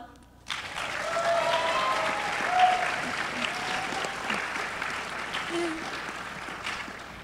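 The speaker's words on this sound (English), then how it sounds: "Round of applause." A panel audience at a BronyCon convention breaks into a sustained round of applause that starts suddenly and holds steady, moderately loud, for several seconds.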